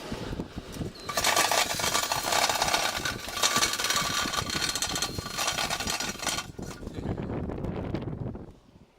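A big masonry bit drills an inspection hole into a plugged catalytic converter on a 2001 Ford Escape V6, with a fan running to clear dust. It makes a loud, steady grinding roar up close for several seconds, then winds down near the end.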